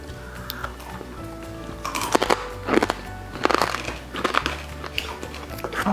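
Crunchy crackling on a smoked BBQ pork loin joint is bitten and chewed up close, giving several sharp, brittle crunches in irregular bursts, with quiet murmuring in the background.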